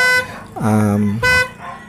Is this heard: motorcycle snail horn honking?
yes